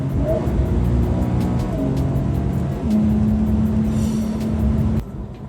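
2020 Porsche 911 Carrera 4S accelerating onto a highway, engine tone climbing through gears with a sustained steady drone, then dropping off sharply near the end, heard from inside the car.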